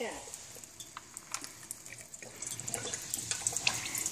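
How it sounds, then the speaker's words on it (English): An ionizer tap runs alkaline water into a glass, a steady trickling pour that builds and brightens as the glass fills, with light splashing close by. "Water fills our glass."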